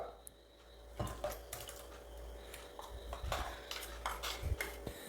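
Mango puree being stirred into milk in a bowl for mango kulfi: soft clinks and scrapes of a spoon against the bowl, close and quiet over a steady low background hum.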